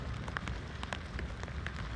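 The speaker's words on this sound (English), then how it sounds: "Raining pretty good." Rain on the Ohio to Erie Trail patters steadily on a surface nearby, with crisp individual drops ticking irregularly over a dense wash.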